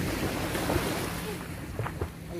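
Sea waves wash onto a beach, a continuous close rush of surf mixed with wind noise buffeting the microphone, with faint voices in the background.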